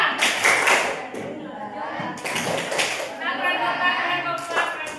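In a classroom, children and a teacher perform a rhythmic math clapping chant, with groups of sharp claps interspersed with chanted voices.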